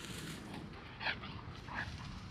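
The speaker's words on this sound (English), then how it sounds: "Got the dogs worked up." Dogs at a riverside camp in southern Oregon, stirred up after a dead tree fell, give two short, faint yelps or barks at a distance over a steady outdoor hiss.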